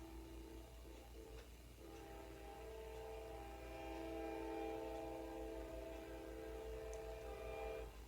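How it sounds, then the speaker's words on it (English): A train passes at a distance, a faint, steady rumble with sustained tonal horn-like whine that swells toward the middle and holds, with no voices. "A train is going by."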